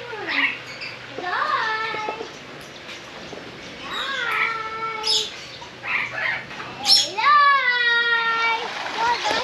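Several bright, rising-and-falling whistled rosella parrot calls come in short bursts, one after another, close by, over quiet background noise, in parklands at Kalgoorlie-Boulder.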